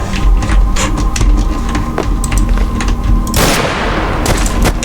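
Gunfire in the video game Wasteland, a loud rapid volley of shots with sharp repeated cracks, then a heavy booming blast near the end, with no talk.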